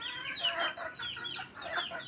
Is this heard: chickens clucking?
yes